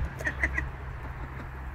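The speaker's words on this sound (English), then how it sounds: "After a busy day, you can feed the ducks" Ducks quacking while being fed, a few quick nasal quacks up close at the start, then quieter outdoor background.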